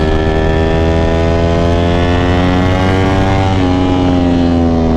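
A Ducati Panigale V4 SP2 with a Stage 2 ECU flash accelerates hard, its loud continuous engine note holding steady and rising slightly in pitch throughout, close and alone with no talk.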